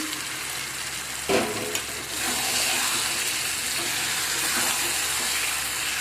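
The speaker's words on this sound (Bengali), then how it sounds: "এখন এর মধ্যে আমি দিয়ে দেবো ম্যারিনেট করা চিকেন।" Marinated chicken drops into hot spiced oil and sets off a sudden, steady sizzle of frying that continues loud and close after a brief clatter.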